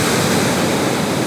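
Steady broadband roar of sea waves breaking at the seaside, close and loud throughout with no distinct pauses between breakers, a constant wash of surf.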